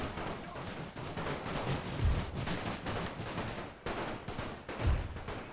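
Machine guns firing in The Great War during a multiplayer Invasion of Serbia battle, a dense continuous crackle of distant gunfire with a couple of heavier thumps standing out.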